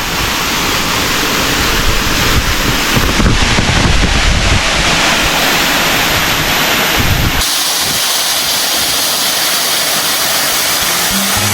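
A loud, constant roar of rushing water from Sudagala waterfall near Kuruwita fills the scene, with heavy wind buffeting the microphone throughout.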